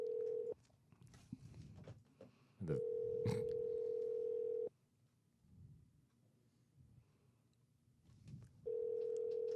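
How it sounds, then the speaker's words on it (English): A telephone on a call rings in long steady electronic tones separated by quiet gaps, clear and close, with faint voices and rustling in between. "there's just a phone ringing"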